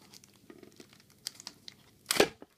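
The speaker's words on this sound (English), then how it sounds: "pry open the tin." Pokémon Xerneas collector's tin pried open by hand without scissors: soft scraping and crinkling of packaging, then one louder crackling tear near the end, close up and quiet.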